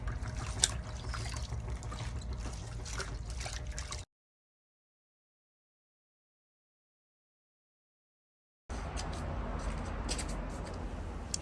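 Water trickling steadily from a tap while vegetables are washed in a home kitchen, a continuous close splash and dribble that cuts out for several seconds and then resumes, with no talking.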